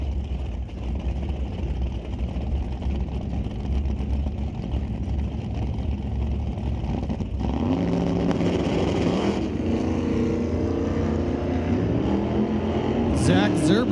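A 1968 Chevy Camaro and a 1988 third-gen Camaro with a 406 rumble at the drag strip, then launch with rising, roaring engine revs that climb and fade down the track, under an announcer's voice.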